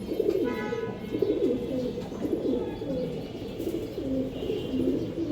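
Pigeons, a pair with their young among a large breeder collection, coo in repeated low, throaty bursts close by, with a few faint chirps mixed into the steady rhythm.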